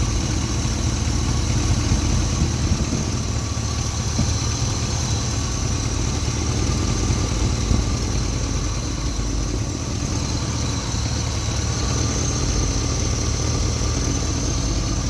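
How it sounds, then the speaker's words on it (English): A 1965 Chevy II Nova wagon with a 305 V8 and 200-R4 transmission idles steadily under the open hood, an even, smooth mid-pitched rumble heard up close with no talking. "You can see the motor running."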